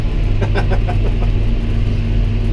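A John Deere 6R tractor, tuned with Ekotune for an extra 35 hp, drives along a road with a continuous deep engine rumble and steady droning harmonics.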